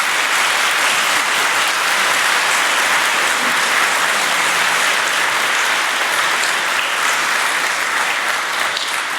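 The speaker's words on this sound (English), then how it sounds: "I think they deserve a round of" Sustained audience applause at an interfaith Thanksgiving service in East Brunswick fills the room, dense even clapping from a sizeable crowd that holds at a steady loud level throughout.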